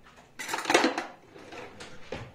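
Strawberries being stirred in a bowl, a few short clinking and scraping knocks of a utensil against the dish in quick, uneven bursts, close and fairly quiet with no talk.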